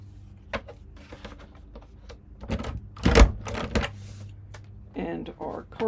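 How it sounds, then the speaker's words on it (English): Several sharp punching clunks of a hole punch going through index cards and cardstock, close and moderately loud, amid paper rustling, with a voice briefly speaking toward the end. "we're going to make 6 holes on our index cards"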